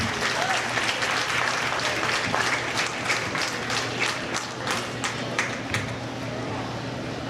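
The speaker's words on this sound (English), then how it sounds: "Again, give them one more big round of applause." A crowd applauds steadily at a county fair goat show, with dense continuous clapping that fades slightly near the end, an announcer's voice faintly beneath it.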